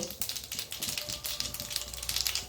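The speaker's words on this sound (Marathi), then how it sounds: "छान तडतडली आहे मोहरीची" Rapid, dense crackling and popping of mustard seeds spluttering in hot oil, with irregular bursts of sharp ticks close up.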